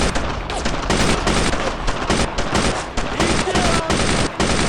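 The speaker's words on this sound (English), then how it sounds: "the MG suppresses them really badly" A German MG machine gun in Brothers in Arms: Road to Hill 30 fires in long, loud, rattling bursts, with rapid overlapping gunfire filling the whole stretch.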